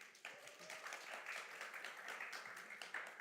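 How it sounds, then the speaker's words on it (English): Applause from a conference audience for panelists at a Dubai crypto event, faint and distant but continuous over a few seconds. "please, round of applause"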